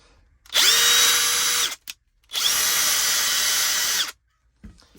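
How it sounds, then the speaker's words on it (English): Close-up Hercules brushless impact driver motor whirs loudly in two sustained high-pitched runs of about a second each, separated by a brief pause. "And here's the sound of the motor."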